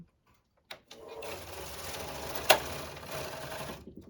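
The carriage of a domestic knitting machine sweeps across the beds knitting half-cardigan rib, giving a continuous mechanical whirring and clattering run of about three seconds with one sharp click partway through. No one speaks.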